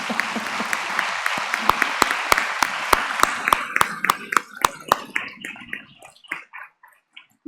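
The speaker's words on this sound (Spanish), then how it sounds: "Yo les pido un aplauso para ellos." Audience applause for social service interns at a geriatrics event, starting as a full roar of clapping, then thinning into scattered, distinct individual claps that fade out toward the end.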